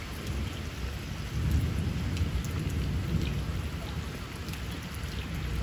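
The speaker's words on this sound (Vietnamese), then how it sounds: "mưa gió sấm chớp thế này" Heavy rain and a thunderstorm at dusk in rural Long An, Vietnam, heard from under a small hut: dense, hissing rainfall with low rumbling thunder, loud and constant throughout.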